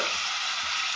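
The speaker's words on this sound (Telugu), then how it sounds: "ఉల్లిపాయ మిక్సీకి పెట్టుకున్నాం కదా," Ground onion paste sizzles in hot oil in a pan for a spicy Telugu-style curry, a dense, steady frying hiss heard up close without talk.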